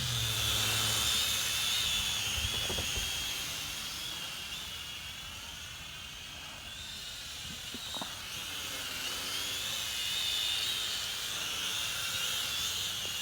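A Propel Maximum X11 quadcopter drone flies at night with a steady, loud whirring buzz of spinning rotors. The pitch rises and falls as it moves, and a few faint clicks sound underneath.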